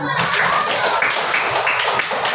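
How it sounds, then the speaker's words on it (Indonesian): Schoolchildren clap their hands together in a classroom, a steady run of sharp claps lasting a couple of seconds, fairly loud and close, with some voices mixed in. "Oke, tepuk tangan dulu."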